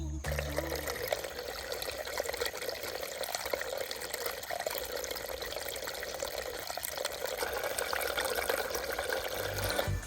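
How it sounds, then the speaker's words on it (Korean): Rainwater from the previous night's downpour rushes steadily along a small stream bed like a valley brook, a continuous close burbling wash that holds an even level throughout. "전날 밤에 내린 비로 인해 계곡 같은 게 만들어졌습니다"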